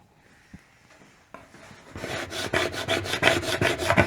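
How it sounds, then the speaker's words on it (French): Scraper and brush strokes on a snowboard base: a few faint scrapes at first, then a steady run of loud, rhythmic brushing rubs, close and alone. "on va juste passer un petit coup de réglette et un petit coup de brosse"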